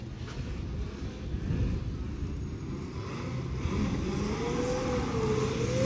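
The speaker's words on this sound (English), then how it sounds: "No, I can only hear one car." A single drift car revving on the track during practice at the Cyprus Drift Championship, a distant engine rising and falling in pitch with broad roar, heard alone.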